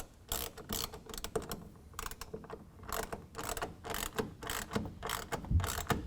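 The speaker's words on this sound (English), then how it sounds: "Now we can go ahead and tighten down the head rail to the tension adjusters." A ratchet tightening the head rail tension adjusters of an Ionic SE roll-up tonneau cover on a 2011 Toyota Tundra: repeated bursts of quick clicking in an uneven rhythm, close by, with short pauses between strokes.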